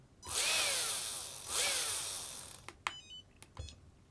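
Small electric RC motor on a Flysky FS-R4D ESC spinning up under throttle twice, each a rising then falling whine, followed by a few short clicks and beeps.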